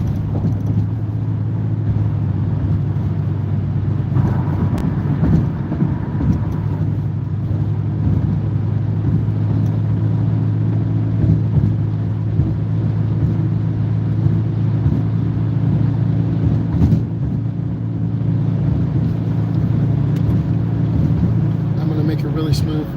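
Car cruising on a highway at about 75 mph, a constant loud road and engine drone with tyre rumble, someone talking over it throughout.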